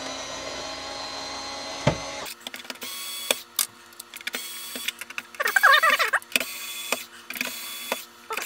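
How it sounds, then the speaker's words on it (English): Automatic screwdriver working on an Atari 800 keyboard at a bench, short buzzing whirs and clicks in bursts with a brief higher-pitched whine in the middle, fairly close and alone. "I can use the automatic screwdriver on that one."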